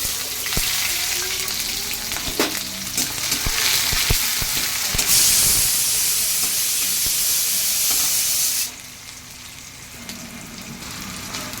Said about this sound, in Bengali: পেঁয়াজটা আমি লাল লাল করে ভেজে নিচ্ছি।